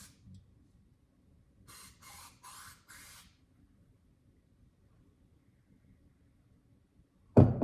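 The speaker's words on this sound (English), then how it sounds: "I'm gonna spray some cleaner down in the actual tube" Three quick hissing bursts of cleaner sprayed into a Suzuki DRZ 400S motorcycle's fuel tube sound in close succession against near silence, followed by a sudden louder clunk at the end.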